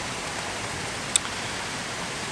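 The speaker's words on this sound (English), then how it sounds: "you got the little waterfall behind me on the pool" A small waterfall and fountain beside a pool give off a steady, even wash of splashing water, close and continuous, with one tiny click partway through.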